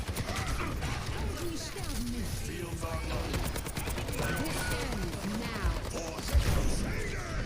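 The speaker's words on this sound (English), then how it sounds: "Why am I shooting a Reinhardt that has a shield?" Dense, rapid automatic gunfire from the first-person shooter Overwatch 2 fills the passage with bursts and chatter of game effects, steady and loud, with a player's voice speaking intermittently.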